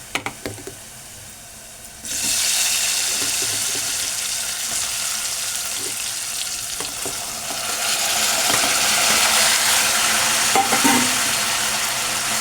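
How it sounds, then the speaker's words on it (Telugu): Cauliflower pieces drop into hot oil, and a quiet start jumps into a loud, steady, close sizzle that stays even and grows slightly stronger toward the end, with a few stirring knocks. "మనం ఇప్పుడు క్యాలీఫ్లవర్ ముక్కలు వేసుకున్నాం. కొద్దిగా మగ్గాలి ఫ్రెండ్స్ ఆయిల్లో."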